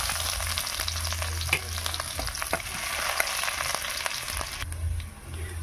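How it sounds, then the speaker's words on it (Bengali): Chopped onions frying in hot oil in a wok, a steady loud sizzle with occasional stirring clicks and scrapes throughout, no voices. "দিয়ে দিচ্ছি পেঁয়াজ কুচি"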